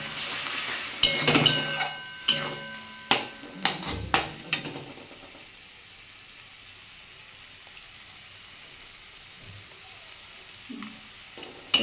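A pumpkin dhoka mixture is stir-fried in a pan, with a series of sharp scraping and knocking utensil strokes over a faint sizzle, then a quieter stretch of gentle frying.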